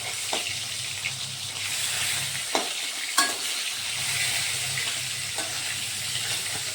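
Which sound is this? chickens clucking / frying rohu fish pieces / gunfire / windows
frying rohu fish pieces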